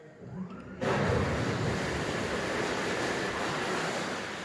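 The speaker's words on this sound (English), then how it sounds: "There's going to be a splashing noise." Water churns and splashes loudly as a cave tour boat in Penn Cave, Pennsylvania, pushes water in reverse to stop. A quiet start gives way to a sudden, steady rush that lasts to the end.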